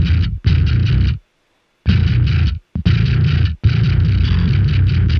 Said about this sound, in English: So again, this is what the bass sounds like.